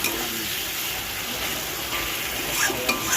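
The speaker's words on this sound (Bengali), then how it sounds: "আর তোমার টমেটোও দিয়ে দিয়েছি আর আদা পেঁয়াজ রসুনের পেস্টটাও দিয়ে দিয়েছি দিয়ে ভালো করে মশলাটাকে কষিয়ে নিচ্ছি" Masala with tomato and ginger-onion-garlic paste being sautéed in oil in a pan, a continuous close sizzle with light stirring scrapes and clicks, no one talking.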